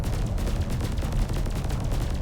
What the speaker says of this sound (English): at 3 pips, I should be able to fire my pulse turrets indefinitely